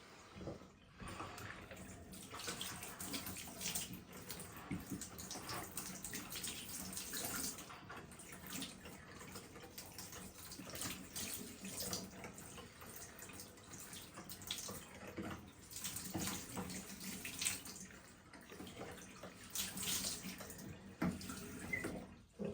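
Cold tap water runs steadily over a Shark cordless upright vacuum cleaner filter being rinsed, a continuous splashing hiss that shifts as the filter moves under the stream.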